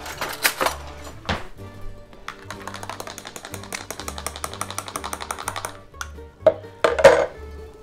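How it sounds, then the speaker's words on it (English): A metal spoon stirs a chocolate egg cream of seltzer and chocolate syrup in a glass, giving a steady run of light, rapid clinks against the glass over a low background tone, with a couple of louder knocks near the end. "Yum, let's spoon this sucker up."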